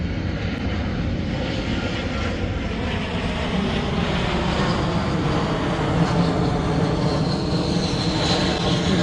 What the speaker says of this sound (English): Right in the flight path of Intercontinental Houston.